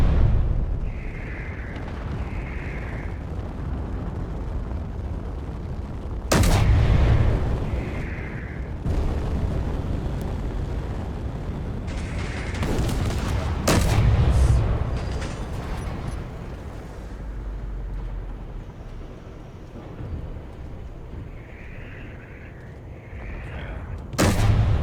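Artillery salvo in a combat video game fires as several separate heavy blasts, spaced seconds apart over a low rumbling background, each with a sharp broadband crack and a short fading tail.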